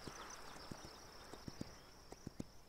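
Horse hooves clip-clop in Kingdom Two Crowns, a series of soft, evenly spaced clops under a quiet, steady high-pitched ambient tone.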